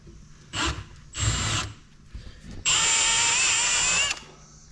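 A power drill bores through a metal door while a smart lock or deadbolt is installed, running in two short whining bursts and then one longer, steady high-pitched drilling run before cutting off, with no talking.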